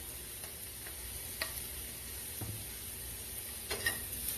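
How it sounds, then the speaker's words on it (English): Sausage browns in a hot pan with a steady, even sizzle, broken by a few soft clicks and taps, with no voices. "let's look back at the sausage as it's browning"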